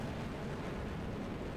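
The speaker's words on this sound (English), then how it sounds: "I'll just get a little bit of sound going" Jet engines roar on fighter aircraft in the DCS flight simulator as F-16s prepare for takeoff, a dense, steady, loud rumble with no voices over it.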